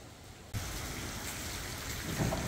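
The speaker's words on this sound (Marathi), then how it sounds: "तर खतरनाक पाऊस सुरू झाला आहे" Heavy rain pours down during a family Diwali celebration, starting abruptly after a brief quiet moment and then holding a dense, steady hiss with no voices.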